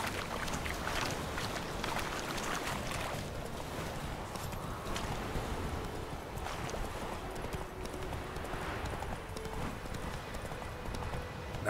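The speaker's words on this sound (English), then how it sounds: "Go, you Dumbo horse." A horse's hooves pound steadily in The Witcher video game, a fast, continuous clopping gallop that stays loud and close for the whole stretch, with game ambience underneath.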